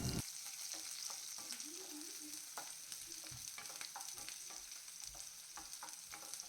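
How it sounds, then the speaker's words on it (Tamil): Cubed onions sauté and get stirred in a hot pan of oil, giving a steady close sizzle with scraping stir noises throughout and no talking. "இப்போ இதில் வந்து வெங்காயம் க்யூப்ஸாக நறுக்கிறத சேர்த்து நல்லா வந்து நம்ம வதக்கிக்கலாம்."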